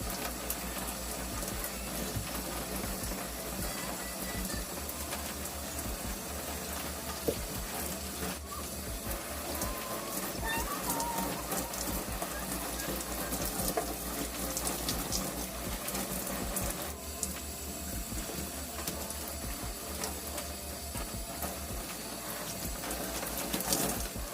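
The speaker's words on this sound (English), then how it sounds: "now I am done rinsing that product off my hair" Shower water running steadily over hair as product is rinsed out during a wash day for type 4 curly hair, a continuous close splashing hiss that stays level and unbroken throughout, with no talking.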